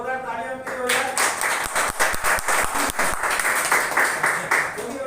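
Audience at a business gathering bursts into dense, sustained applause for a pair of mentors, rising after a brief voice and holding strong, close and continuous to the end, with some voices mixed in.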